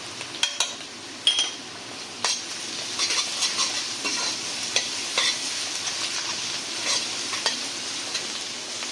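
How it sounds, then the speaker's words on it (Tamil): Onions sauté with rock salt in a pan, a soft steady sizzle broken by sharp scraping clicks of a spoon stirring against the metal, close and clear with no voices. "வெங்காயம் வதங்க தேவையான அளவு கல்லுப்பும்,"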